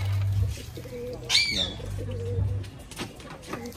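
Pet pigeons, among them a fully fresh bird with one black wing, give soft low coos in short repeated phrases nearby, with a brief higher call and faint flutter in between.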